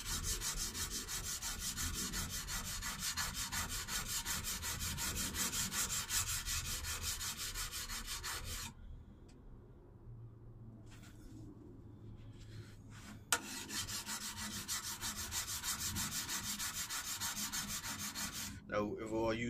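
A steel chisel is rubbed freehand back and forth on a sharpening stone in long, steady gritty strokes, close and fairly loud, with a quiet pause midway before the scraping resumes.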